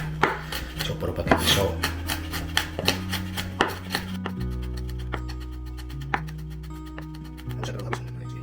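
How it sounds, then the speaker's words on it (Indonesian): A knife chops food on a cutting board in a quick series of sharp, close taps, first rapid and regular, then sparser, over a steady background hum. "Chopper pakai pisau."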